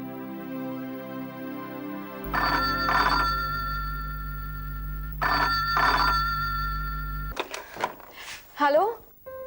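Telephone ringing in a Hindi TV drama scene, two loud bursts of an electronic bell ring over a low hum, then the pickup clatter and a voice at the end.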